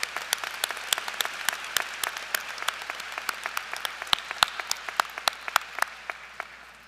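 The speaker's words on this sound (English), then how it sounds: "Let's give them one more round of applause." Audience applause fills the hall at a high school commencement ceremony, many hands clapping at once with sharp individual claps standing out, sustained and gradually thinning toward the end.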